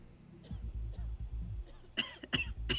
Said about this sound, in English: Yeah, she's coughing.